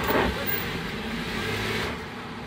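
An offroad vehicle crawling with its traction control engaged: a steady broadband engine and drivetrain drone with tyre noise, fairly close and even in level throughout, with no voices.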